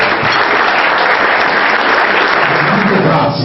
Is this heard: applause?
yes